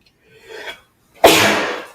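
A single loud, close sneeze bursts out sharply after a softer intake of breath, then tails off over about three quarters of a second, with no talking around it.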